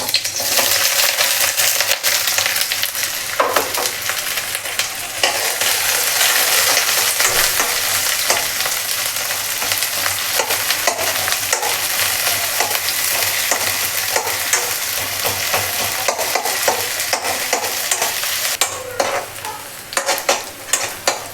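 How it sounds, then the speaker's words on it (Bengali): Onions frying in hot oil in a pan, a bright continuous sizzle with frequent scraping and clinking as a spatula stirs them, close and loud for over twenty seconds without talk. "তেলটা গরম হয়েছে তো এখন এটার মধ্যে দিয়ে দেবো পেঁয়াজ"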